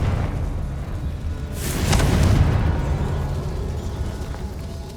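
A loud burst from a Confringo blasting spell in Hogwarts Legacy erupts about midway, a deep boom with a wide, noisy flash that decays slowly into a rumbling ambient bed.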